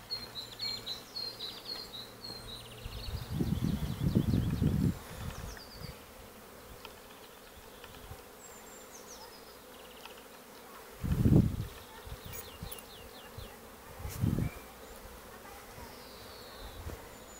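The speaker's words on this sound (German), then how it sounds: "Und die Bienen fliegen." Honey bees fly and buzz outdoors among blooming plants on a cool spring day, with several louder close passes standing out against a steady faint hum and light bird chirps far off.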